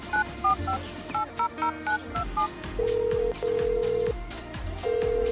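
Telephone keypad tones beep in a quick irregular series as a number is dialed, followed by a long steady ringback tone broken by short gaps, over background music.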